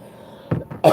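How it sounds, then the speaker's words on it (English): A person coughing close by, a few short, rough bursts in quick succession, with the last one loudest. "I got a cough going on"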